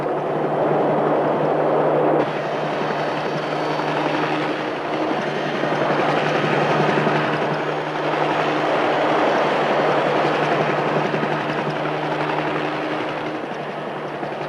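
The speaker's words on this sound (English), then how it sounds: "our pilot, Roland McDonald, now swings around to drive the animals back." Aircraft flying low to drive wild caribou in Newfoundland, a loud continuous engine and rotor drone with a steady tone throughout, close and without talk.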